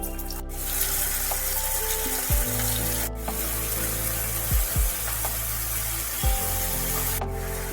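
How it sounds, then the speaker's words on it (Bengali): Ash gourd pieces fry in hot oil with black mustard seeds and cumin, a loud steady sizzle broken by a few sharp clicks and knocks of utensils, with no talking. "ভালোভাবে নাড়াচাড়া করে নিয়ে দিয়ে দিতে হবে কেটে রাখা চাল কুমড়ো"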